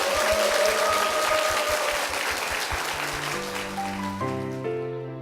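A church congregation claps in blessing at a Methodist church service, a steady broadband applause that gradually thins out while organ or keyboard chords swell beneath it toward the end.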